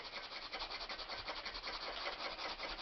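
A paint brush is wiped off to remove excess paint, giving a short run of quiet, rhythmic rubbing strokes close by.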